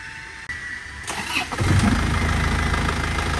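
A car engine treated with a super oil treatment cranks and fires up, then settles into a steady, loud idle close by, with no talk over it.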